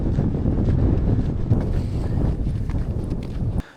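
Wind blows across the open desert of the Bardenas Reales, a loud, steady buffeting rumble against the microphone with small gusts, cutting off abruptly at the end.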